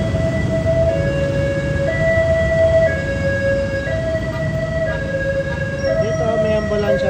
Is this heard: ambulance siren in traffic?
yes